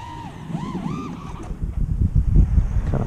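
FPV quadcopter drone motors during a throttle punch, a rising whine that sweeps up and down in pitch over a rough, gusty roar of wind and prop noise, loud and close throughout.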